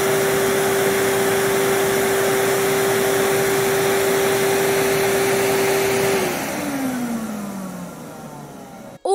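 A vacuum cleaner whines loud and steady, its motor tone holding constant and then sliding down as it powers off, ending with a short clunk.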